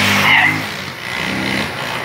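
A car drifts sideways at a night event in Feira de Santana. A brief tire squeal rises over a revving engine and then fades into a rougher, lower motor rumble.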